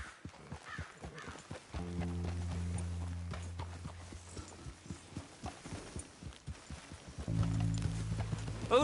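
A horse trots and canters along a beach in Red Dead Redemption 2, its hooves making a steady rhythmic clip-clop at moderate volume with no talking.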